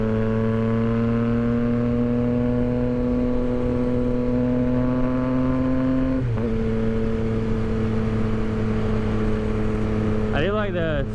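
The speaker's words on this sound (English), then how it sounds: "I do like the tone of the exhaust." A 2022 Yamaha XSR 900 motorcycle engine drones steadily at a constant tone while riding, shifting pitch slightly once, with a short crackle near the end, as a rider talks over it.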